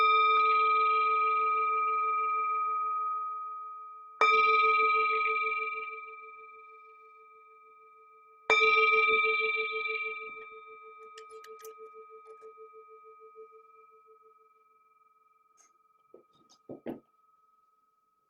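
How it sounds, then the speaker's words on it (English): A meditation bell struck three times at even intervals, each strike ringing out clearly and fading slowly into a long sustained hum, followed by a few faint knocks at the end. "let's begin and end with the sound of the bell"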